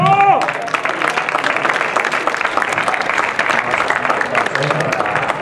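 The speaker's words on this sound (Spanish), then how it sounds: "un fuerte aplauso para el inventario" A festival audience breaks into loud, dense applause and keeps clapping steadily for several seconds, with a voice calling out over the start.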